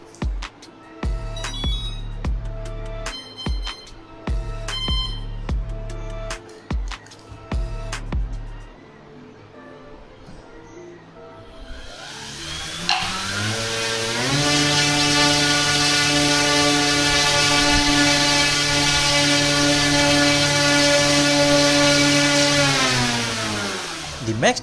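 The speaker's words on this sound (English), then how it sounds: "Now connect the battery and after the motor beeps, start the throttle." Racerstar 2500KV brushless motor spinning an 8-inch propeller on a thrust test rig: a series of short startup beeps, then the motor spins up into a loud, steady whining drone with layered harmonics that holds at full throttle before winding down at the end.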